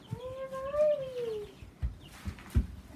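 Young chicks in a backyard chicken coop give a high, sliding cheep near the start, followed by a few soft thumps and shuffling noises close by.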